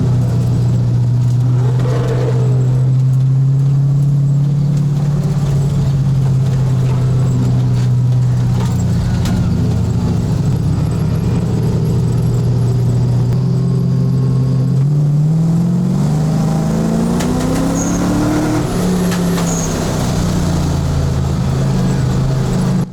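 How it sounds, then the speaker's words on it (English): Drift car running laps on a wet oval track, a steady loud engine drone throughout with pitch rising toward the end as it accelerates, continuous and close. "I am not missing a chance to oval race my drift car"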